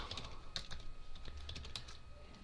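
Quiet, steady typing on a computer keyboard, a run of light irregular keystrokes with a few sharper clicks, close by with no talking.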